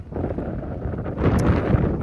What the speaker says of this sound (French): Énormément de vent.